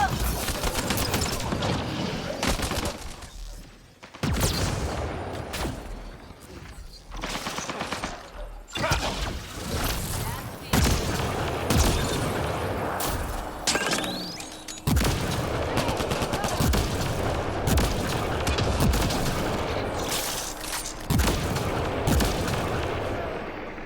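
Video game gunfire in a dense, sustained fusillade of rapid shots and booming bursts, loud and close, with a few short gaps and a voice speaking now and then over the shooting.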